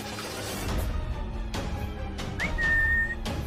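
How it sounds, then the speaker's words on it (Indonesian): A single short whistled tone, rising briefly and then held steady, sounds close by in an abandoned school, over a low background rumble. "Gue siulin deh tuh."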